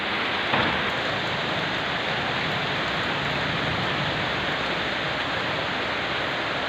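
Steady, even rain pours down continuously during Ramadan, a dense unbroken hiss with no voices and no distinct drops standing out.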